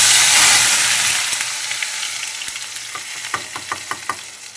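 Cut pieces for mutton curry drop into hot oil with a loud burst of frying hiss that gradually settles into a softer sizzle punctuated by light pops and crackles, close up.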